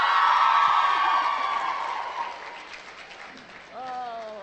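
Concert audience applause with some cheering, loud at first and fading over a few seconds, then a person begins speaking near the end.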